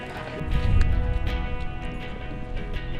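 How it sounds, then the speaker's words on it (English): Horses clip-clop along a street on Mackinac Island during the Fourth of July, the hoofbeats fairly steady and close under a busy outdoor murmur, with a voice or two in the background. "There's horses."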